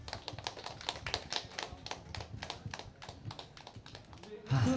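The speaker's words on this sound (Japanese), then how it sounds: "温かい拍手" Warm applause from a concert audience at a live music venue, many hands clapping fairly close in a dense, steady patter that carries on for several seconds before a voice cuts in at the end.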